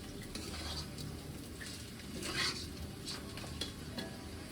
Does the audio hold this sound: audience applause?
no